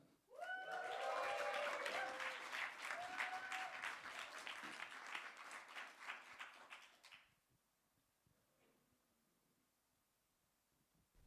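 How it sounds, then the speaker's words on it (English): A poetry slam audience bursts into applause, loud dense clapping with a few whoops that fades over about seven seconds into near silence. "Okay, round of applause."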